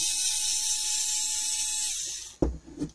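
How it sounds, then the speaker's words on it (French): A cheap cordless electric screwdriver bought at Action runs with a steady high whine for about two seconds, then winds down, followed by a couple of brief handling clunks. "Alors ça, c'est le tournevis."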